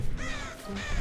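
In the mobile horror game Dead by Daylight, a crow caws and flutters off, two harsh rasping calls close by with a brief dip between them and no voices.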